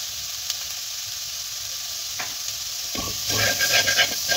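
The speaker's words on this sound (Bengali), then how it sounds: "দিয়ে এটাকে ভালোভাবে নাড়বো" Banana flower mixture with sugar and salt frying in a pan, a constant hiss of oil with a spoon scraping and stirring in a busy burst toward the end.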